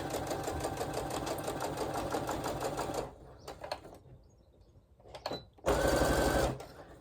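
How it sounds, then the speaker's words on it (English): A sewing machine runs a line of stitching on a project bag, with a fast, even mechanical rattle for about three seconds. Quieter handling clicks follow, then a second short loud burst of stitching. "we're just going to run a line of stitching"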